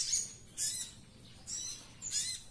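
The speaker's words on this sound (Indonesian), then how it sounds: "Responnya hanya ngeriwi kasar seperti ini saat kita koloni atau kita track" A trek sogon bird gives harsh, raspy chattering calls in four short bursts spaced about half a second apart, fairly faint against a quiet background.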